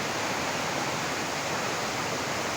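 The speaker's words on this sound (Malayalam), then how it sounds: "ചെറിയൊരു കുഞ്ഞു വെള്ളച്ചാട്ടം" A small natural waterfall in a forest stream, a steady dense rush of falling water heard close and loud without pause.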